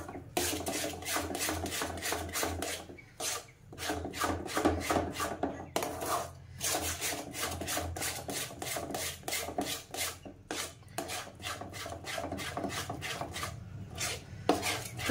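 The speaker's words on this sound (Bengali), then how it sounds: "এবার আমি অনবরত নাড়তে থাকবো।" Cabbage sandesh mixture is stirred without pause in a pan, a rapid, regular scraping rasp of spoon against metal that runs on for the whole stretch with only brief gaps.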